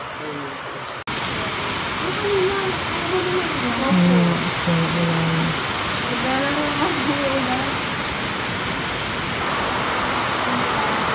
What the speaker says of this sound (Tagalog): hindi kami makapag-shoot ng malakas yung ulan